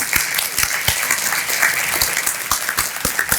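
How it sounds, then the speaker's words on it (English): Audience applause at a chamber of commerce breakfast, loud, close clapping with sharp individual claps standing out from a dense, even patter for a few seconds. "So big round of applause and welcome to the Chamber for Swank Style and Boutique."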